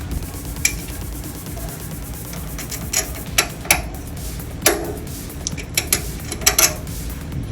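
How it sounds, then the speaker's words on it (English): A bolt is worked through the holes of a trim actuator bracket, giving small metallic clicks and taps in scattered clusters, close but light, over a steady low background hum. "I'm just looking for ease of movement with that bolt going through those holes."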